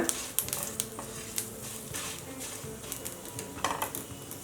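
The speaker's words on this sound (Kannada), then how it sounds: "ಬೆಳ್ಳುಳ್ಳಿ ಹೆಸಳು 1 ಗಡ್ಡೆ, ಲೋ ಫ್ಲೇಮಲ್ಲೇ ಘಮ್ ಅಂತ ಸುವಾಸನೆ ಬರೋವರೆಗೂ ಫ್ರೈ ಮಾಡ್ಕೊಳ್ಳೋಣ" Garlic cloves fry with dried red chillies in a pan over a low flame for mango rasam, giving a steady soft sizzle broken by the scrape and clink of stirring in the pan.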